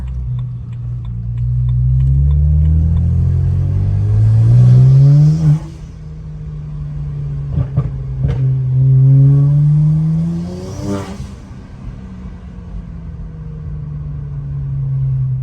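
A tuned car accelerates hard on a test drive, its engine rising in pitch through the gears with a gear change and a second long pull, loud and steady from inside the car without talk.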